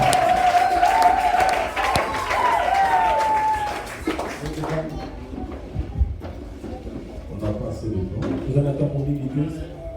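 A church congregation applauds and cheers to welcome a bishop at a celebration, dense clapping and crowd noise that thins after a few seconds under an amplified voice speaking over it.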